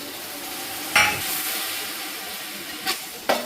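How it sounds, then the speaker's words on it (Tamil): Ingredients for mutton biryani, with ginger-garlic paste, sauté in a hot pan, giving a steady sizzle broken by a few sharp scraping stirs. "கலர் மாறுற வரைக்கும் நம்ம நல்லா வதக்கணும்."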